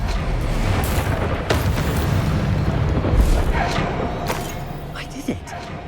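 Booming spell blasts in the Hogwarts Legacy video game, a dense sequence of thuds and explosive bursts under ongoing spoken lines.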